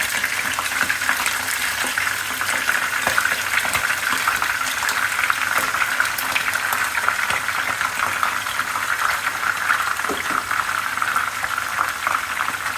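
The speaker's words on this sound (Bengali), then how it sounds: "ভাজবো, ভেজে নেব।" Four spiced chicken pieces for a roast fry in a pan, a continuous bubbling, hissing crackle holding steady at moderate loudness throughout with no voices.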